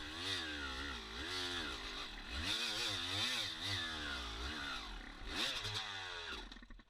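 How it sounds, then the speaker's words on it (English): A dirt bike engine revs hard and continuously while climbing a steep trail hill, the pitch rising and falling in strained surges as the clutch slips and burns out, loud and close with no talking. "So I make it up, I just burn out my clutch and I stalled my bike"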